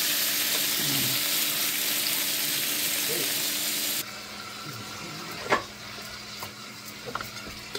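Pork browning in a pan gives a steady broad sizzle that drops in level partway through, with a few sharp clinks of utensils against the pan and a voice speaking in the background.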